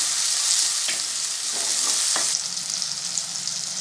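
Chopped tomato tipped into onions frying in oil, giving a steady close sizzle with a few soft clinks and stirring scrapes, the frying hiss easing slightly after the addition.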